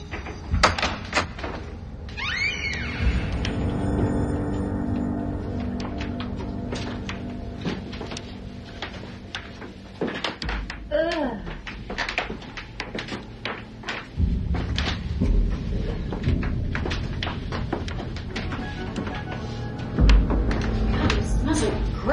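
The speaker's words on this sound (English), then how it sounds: "Open the door." A door is opened amid a series of knocks, clunks and rattling thuds spread over the scene, some sharp and close, with occasional voices between them.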